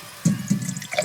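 Sugar solution pours into a jar with a short burst of splashing and trickling liquid, close and fairly loud, lasting about a second.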